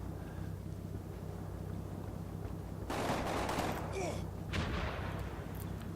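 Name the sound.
Sten gun fire in the video game Combat Mission: Normandy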